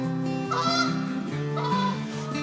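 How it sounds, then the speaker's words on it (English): Canada geese honk loudly and repeatedly at close range, overlapping nasal calls filling the whole moment by a lake in a forest. "Canada goose."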